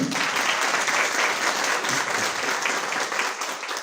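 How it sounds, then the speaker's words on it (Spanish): A conference audience bursts into vigorous applause, dense clapping sustained for several seconds at a steady loud level. "Un fuerte aplauso, por favor."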